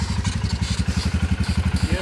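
A CB 350 or Himalayan motorcycle runs in second gear, its single-cylinder engine thumping in a fast, even, loud pulse close by.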